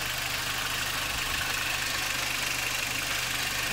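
A 2002 Audi A4 B6 sedan with the 2.0 ALT petrol engine idles at operating temperature, giving a steady, even low hum with a faint regular ticking, heard continuously and unchanged throughout.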